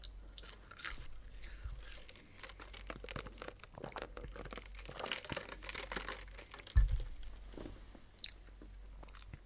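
Close, crisp chewing and biting on McDonald's spicy chicken McNuggets, with moist crunches and soft crinkling of packaging, steady mouth sounds throughout and a louder bite near the end.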